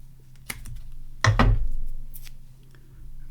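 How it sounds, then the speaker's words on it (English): Scissors snip through foam tape in a few short crisp cuts, one sharp snip followed by a louder double cut close by, quiet in between with no talking. "Next I'm going to take some foam tape. I'm going to cut some pieces off."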